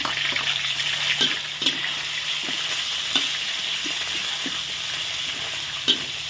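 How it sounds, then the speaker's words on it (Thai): Marinated pork stir-frying in a pan, a continuous loud sizzle broken by repeated sharp taps and scrapes of the spatula against the pan. "เอาหมูใส่เลยนะคะ นี่ค่ะ เลยผัดหมูก่อน"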